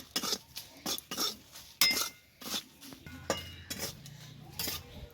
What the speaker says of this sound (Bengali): এই সব দুটো লবণ আর লঙ্কা আমি একটু ভেজে নেব